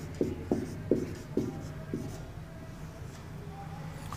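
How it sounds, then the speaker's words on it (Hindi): The word operator is written out by hand in a series of short scratchy pen strokes. About five distinct strokes land at a loose rhythm, close and fairly quiet, before a fainter stretch of continued writing. "ऑपरेटर को यहां लिख रहा हूं, देख लें इधर"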